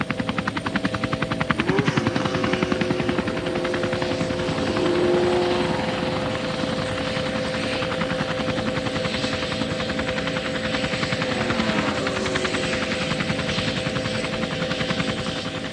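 A Chiltern Air Support police helicopter flies overhead, its rotor chop and engine whine holding steady and fairly loud throughout, with no other sounds over it.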